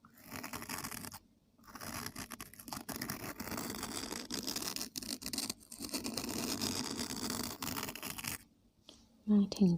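Scratchy scraping and rubbing on an earphone microphone, close and loud, continuing for several seconds with brief pauses, ending in a short low thump.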